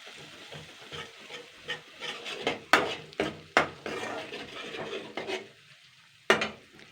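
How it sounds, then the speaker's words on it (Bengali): A spoon repeatedly stirs and scrapes pointed gourd (potol) frying in a pan. Rhythmic, close scraping strokes and clinks of the utensil rise over a soft sizzle. "জাস্ট এটাকে আমি দুই মিনিট মতো নাড়াচাড়া করে নেব"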